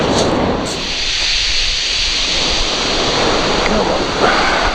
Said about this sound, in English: of really vicious waves there